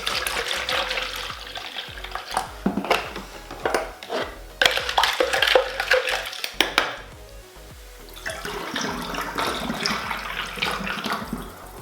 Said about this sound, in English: We've got a bit of sugar left in there, so we will just give that a bit of a swill out